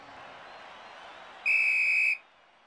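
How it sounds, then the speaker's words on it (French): A single sharp, sustained referee's whistle blast ends a cartoon football match, heard over a soft crowd-like hiss before cutting off abruptly. "Et c'est le coup de sifflet final"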